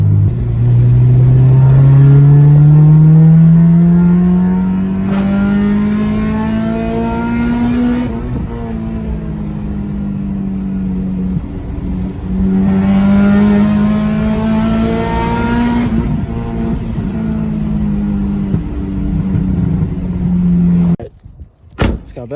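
An Acura RSX fitted with a CUSCO rear strut brace accelerates through a corner, its engine note rising steadily, easing off, then climbing again in two long pulls, loud and close from inside the cabin, ending with a brief knock.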